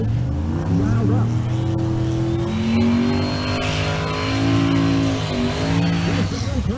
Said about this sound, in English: So Baird, the Buick T-Type in the left lane. The right lane is Josh Salzberg. Salzberg, the GTR.